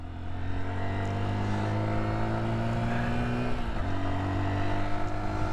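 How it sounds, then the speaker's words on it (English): A Honda XR150L motorcycle engine revs steadily while riding to keep it warm, a loud sustained droning tone with a brief pitch dip midway, close and continuous under wind. "Okay, still revving her, trying to keep her warm."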